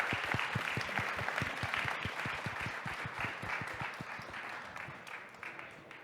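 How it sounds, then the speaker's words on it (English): A conference audience at a startup pitching event applauds the runner-up with sustained, rhythmic crowd clapping, some claps landing in near-unison, slowly fading toward the end. "Big round of applause."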